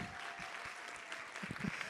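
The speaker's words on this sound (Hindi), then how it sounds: "अभी के लिए जोर से ताली बजा लो सबके साथ." A large leadership-conclave audience claps together, faint and distant, a brief soft wash of applause with a few louder individual claps near the end.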